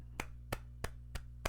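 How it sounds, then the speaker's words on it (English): Five slow, deliberate hand claps spaced evenly about a third of a second apart, each a sharp isolated crack over a faint low hum, close and quiet with nothing else around them. "Slow clap."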